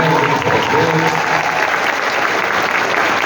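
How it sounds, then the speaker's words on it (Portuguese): Dense, loud applause from an audience at a university rector's inauguration ceremony in Brazil, steady throughout with a faint voice briefly audible early on. "salve de palmas às mulheres"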